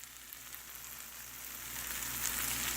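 Onions fry and brown in a pan toward a light char, giving a steady close sizzle that grows slightly louder over a few seconds, with no talking.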